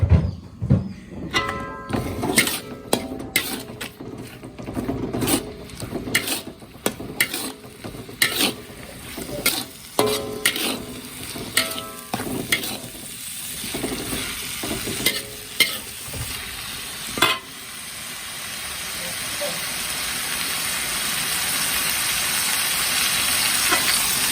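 Food stir-fried in a pan for a special home-cooked meal: a metal utensil scrapes and clanks against the pan in rapid irregular strokes over a sizzle, then the clatter stops and the sizzle alone swells to a steady hiss.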